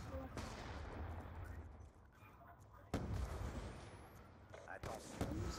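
Sniper rifle shots in the video game Black Ops 2 crack out a few times amid quiet game ambience, sharp distinct bangs spaced apart at moderate level with background battle noise.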